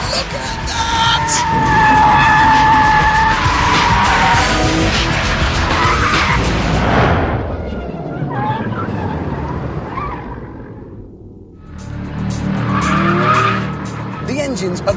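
A rear-engined car is drifted sideways in huge slides, its tyres squealing loudly alongside a revving engine, fading away and then surging back as someone talks over it.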